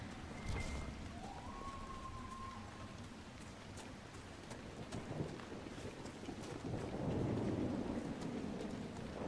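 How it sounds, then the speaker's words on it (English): Video game thunderstorm with rain in Dragon Age: Inquisition: a steady hiss of rainfall with low rolling thunder that swells louder near the end, fairly quiet overall with no talk. "This storm is pretty intense,"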